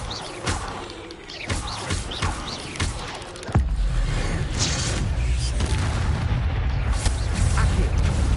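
Spell combat in Hogwarts Legacy with the Expelliarmus disarming spell cast: a series of sharp whooshing bursts and booming impacts, then a sustained loud rumble of magic effects.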